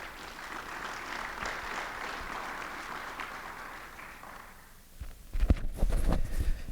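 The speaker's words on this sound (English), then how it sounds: "Please give a warm round of applause to Bob Smock." A conference audience at a security event gives sustained, moderately distant applause that fades out, followed by a few louder nearby thumps and footsteps as someone walks to the stage.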